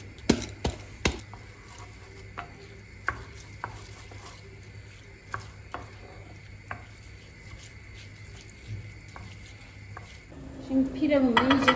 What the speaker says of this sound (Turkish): Pirincimi de ekleyip kavurmaya başlıyorum